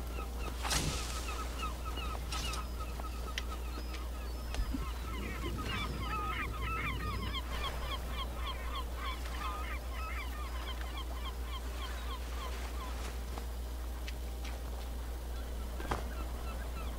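Duck honks and goose-like calls repeat through a busy bird soundscape in Skyrim, with many overlapping chirps and calls over a steady low background hum, no talk.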